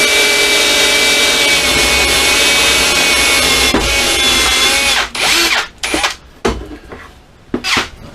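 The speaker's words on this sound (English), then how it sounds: "will be drilling big holes in the nice floor" A power drill bores big holes in a cyclekart floor in a small shed, whining loudly and steadily for about five seconds, then stopping and restarting in short, uneven bursts.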